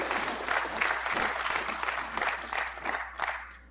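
An audience at the opening of the National Toshaos Council conference applauds steadily, a dense, moderately distant wash of clapping that holds throughout, with a faint voice underneath.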